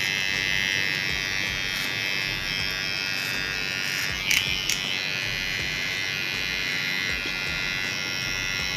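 An electric hair trimmer buzzes steadily as it cuts and blends hair during a haircut, a close, even drone with a brief burst of clicks partway through and no talking.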